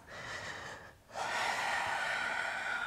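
A deep yoga breath taken during a vinyasa flow class, a soft airy exhale, a brief pause, then a stronger, longer breath close to the microphone, with no talking.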